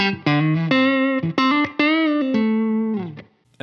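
A distorted electric guitar plays a short run of sustained notes through a UA Ox amp setup with reverb on, each phrase trailing off into a soft ambient tail.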